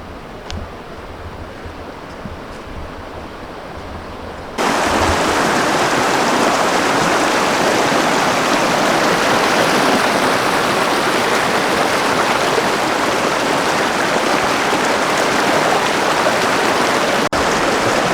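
A river flows steadily near Capitol Reef in hot weather, its broad continuous rushing roar close and loud, jumping in level a few seconds in as the recording nears the water, with no voices.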